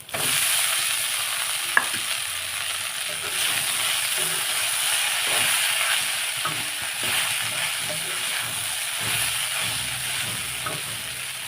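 Crumbled idli is stirred into onions frying in a pan, giving a steady close sizzle and hiss with the scrape of a spoon through the food and one sharp clink near the start.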